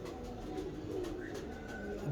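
A female pigeon of Habshi bloodline gives low, soft cooing under a steady hum of background noise, faint and fairly close.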